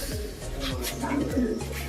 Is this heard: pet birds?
yes